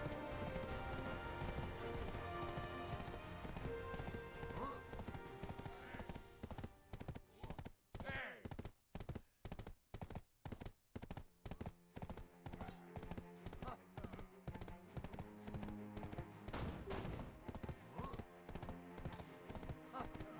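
A horse's hooves clip-clopping in the video game Black Desert, a regular rhythmic run of hoofbeats alongside game music, with a voice talking at times.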